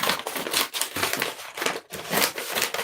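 A tarot card deck being cut by hand: close, crisp papery rustling and riffling that runs steadily for about three seconds, in short dense swells.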